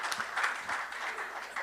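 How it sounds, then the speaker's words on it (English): Scattered audience applause at a surgical society conference as speakers step off the platform, moderately loud and continuous with uneven bursts of clapping. "walk off the platform as we clap for them and acknowledge that"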